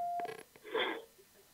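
A phone call comes in on a home improvement call-in show: a brief electronic phone tone, followed by soft, muffled bursts, faint and short.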